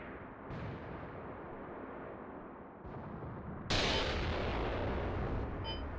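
Rumbling artillery fire in the video game Mius Front, a steady low roar with distant booms, then a louder, sharper blast partway through that stays loud.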